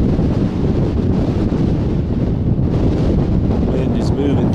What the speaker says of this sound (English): Wind is moving through here.